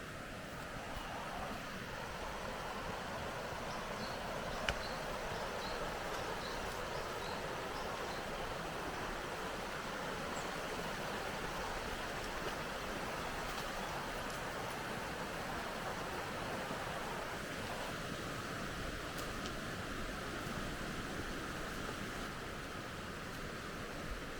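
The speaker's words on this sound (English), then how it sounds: "the only noise that you can get here is from the river and maybe from the birds" Steady rushing flow of a river beside a rural African village, a continuous broadband wash with no breaks, with faint bird calls now and then over the top.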